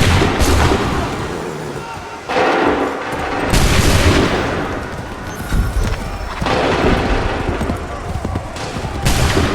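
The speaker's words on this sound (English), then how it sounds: "Make ready! Make ready! Open fire!" Repeated musket volleys crack out in Assassin's Creed 3, several loud bursts of massed gunfire spaced across the clip, with shouted commands and horses amid the din of battle.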